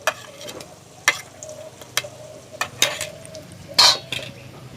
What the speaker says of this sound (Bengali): এবার ভালো করে মশলাগুলো কষিয়ে নেব।